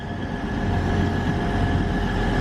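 A train rumbling through Doncaster station, a steady loud low roar with rail hum and faint wheel noise filling the whole stretch, no pauses.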